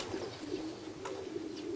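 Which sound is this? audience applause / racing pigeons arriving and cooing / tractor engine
racing pigeons arriving and cooing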